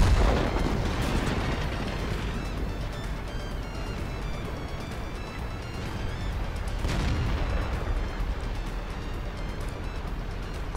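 World of Tanks battle with dense, continuous booming of tank cannon fire and shell impacts, loud and close throughout, with heavier blasts near the start and around the middle.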